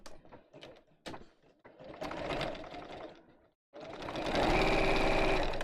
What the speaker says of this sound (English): Sew this together in a tube.